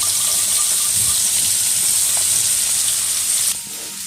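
Shallots and whole peeled garlic frying in a pan, a steady loud sizzle and hiss that runs without pause and drops slightly in level near the end.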